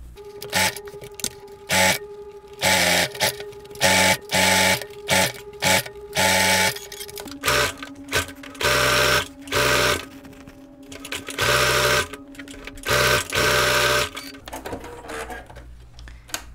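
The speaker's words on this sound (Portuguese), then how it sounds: "Então eu vou vir aqui, costurar todo o contorno." A sewing machine stitches around the outline of a fabric bag made from scrap fabric, running in a dozen or so short, even bursts separated by brief pauses, close and fairly loud.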